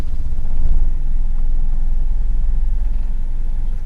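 A Toyota Kijang engine running with its RPM held raised during an oil change, a steady, even mid-pitched rumble close by, continuous and without variation, with no voices.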